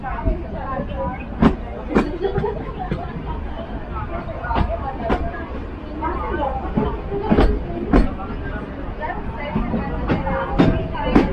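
A metre gauge heritage train with a Vistadome coach runs on the rails toward Patalpani, giving a continuous loud rumble punctuated by rhythmic clickety-clack wheel knocks, with voices murmuring inside the carriage.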